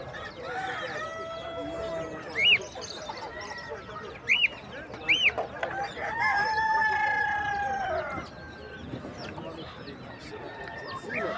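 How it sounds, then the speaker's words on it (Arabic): Pakistani chickens and a rooster crowing among other fowl at a busy bird and animal market in Khamis Mushait, Saudi Arabia, with several loud crows and clucks over steady crowd chatter and voices. "هذا دجاج باكستاني يا إخواني الكرام"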